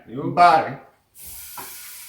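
Food browns in a hot pan with a steady, soft sizzle that starts after a short spoken phrase.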